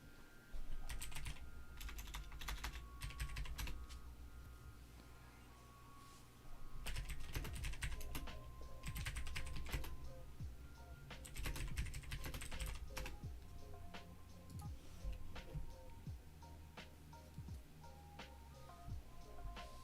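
Rapid typing on a computer keyboard, dense clattering keystrokes in uneven bursts running throughout, close and steady, over a low background hum.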